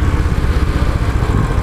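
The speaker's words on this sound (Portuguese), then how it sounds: "Mas o motor é estranho. O motor dela é rotação muito baixa, sabe?" A Royal Enfield Continental GT motorcycle engine idles at very low revs, a steady close-up rumble with an even pulsing throb and no voices.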